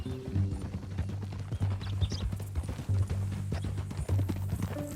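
Horse hooves clip-clop in a steady walking rhythm in the Western video game Red Dead Redemption 2, close and fairly loud over low background ambience, with a faint voice and an occasional whinny-like hint.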